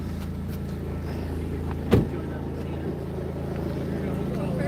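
A car pulling away, heard from inside the vehicle as a steady low engine hum and road rumble, with a single loud thump partway through.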